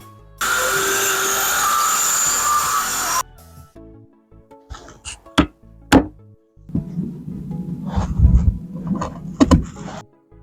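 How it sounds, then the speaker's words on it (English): A jigsaw cuts a hole in a wooden router table top with a loud buzzing burst lasting about three seconds, followed by scattered knocks and clunks and a rougher stretch of intermittent cutting noise. "we need to cut our hole right here in the middle, which we're going to do by jigsaw."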